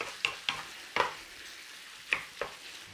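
Lamb and onions frying in a pan give a soft steady sizzle, broken by a handful of sharp scraping stirs of a utensil against the pan, fairly close and without talk.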